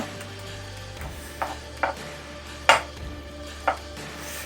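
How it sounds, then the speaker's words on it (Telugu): Fish frying in a pan, with scattered sharp clinks and scrapes of a utensil against the pan over a low background hum, several distinct knocks spaced a second or so apart. "ఫ్రై చేస్తున్నాను చేప ఫ్రై."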